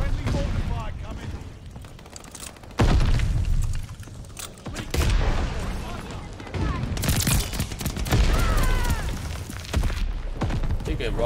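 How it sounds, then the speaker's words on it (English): Friendly mortar fire in Call of Duty Vanguard, with heavy booming impacts and bursts of gunfire that come and go over about eleven seconds, under voices and game chatter. "Friendly mortar fire coming"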